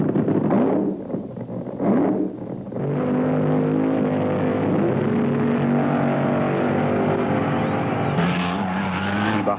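Drag racing at Rockingham International Dragway in 1975, a Chrysler-powered Vega against the Chi-Town Hustler, with loud racing engines roaring steadily through a run, tire squeal early on and a sustained high engine drone, no talking.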